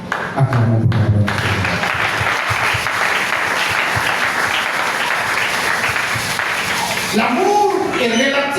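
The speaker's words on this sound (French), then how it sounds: "Acclamons pour la raison." A congregation applauds during a Sunday evangelical church service, a dense, steady roar of clapping that lasts several seconds, with voices heard at the start and again near the end.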